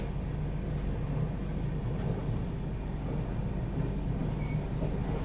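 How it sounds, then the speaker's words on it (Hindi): The Paschim Express runs alongside and overtakes, heard from aboard the August Kranti Rajdhani Express as a steady, loud rolling rumble of wheels on rails, continuous and close, with no talk. "देखिए, पश्चिम एक्सप्रेस पीछे से फिर से आ गई है।"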